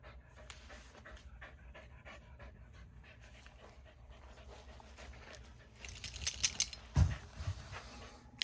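Kado, a dog recovering from TPLO knee surgery, pants steadily after at-home balance and mobility rehab exercises, close by and fairly quiet, with a brief jangle of tags or keys and a soft thump near the end.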